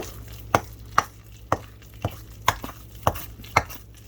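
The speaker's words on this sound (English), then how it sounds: "I'm just scraping the bottom and the sides while I spin the bowl around to make sure I get all of it stirred in" A spatula knocks and scrapes around a bowl of biscuit dough made with fresh-milled flour, giving a steady series of sharp, close taps about twice a second over a faint room hum.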